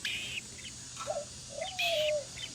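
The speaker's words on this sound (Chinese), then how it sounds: "明明是一只水鸡，整天给我贴得紧紧的" A common moorhen, or water hen, gives short chirping calls and a rising squeaky note, close and fairly clear against a faint background hiss.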